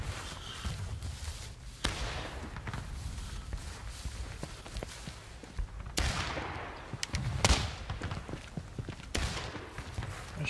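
Musket gunfire in the War of Rights video game during Hatch's Attack: scattered sharp shots near and far, with a few louder cracks over a constant battlefield rumble and shuffling movement, and no clear speech.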